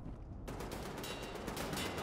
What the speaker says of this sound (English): Now who be doing the shooting?